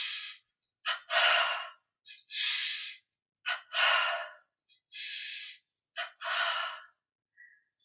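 Forceful breaths are added to a contraction exercise: sharp, loud inhales and exhales come in quick pairs and single bursts, close and clear, separated by short silences.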